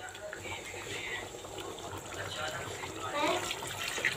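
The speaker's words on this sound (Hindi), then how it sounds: "मेरे पास चावल है 1 किलो और उसके मुताबिक मैं इसमें पानी ऐड कर रही हूँ।" Water splashes and gushes steadily into a pot of chicken pulao with cooked meat and spices, a continuous pouring sound with a voice faintly underneath.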